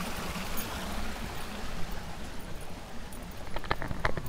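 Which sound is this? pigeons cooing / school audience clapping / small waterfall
small waterfall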